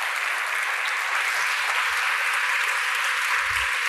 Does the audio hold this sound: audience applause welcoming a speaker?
yes